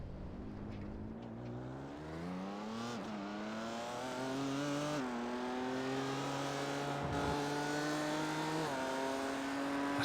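Race car engine in the iRacing sim game, a steady high-revving drone with harmonics that climb through gear changes, briefly dipping and rising again, loud and continuous with no talk.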